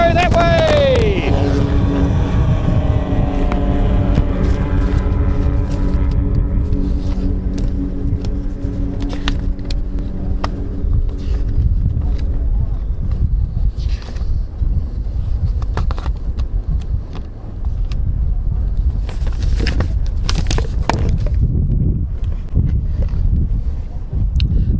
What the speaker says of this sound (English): the smaller 250s, the little bikes, listen to the thing. They're already in top gear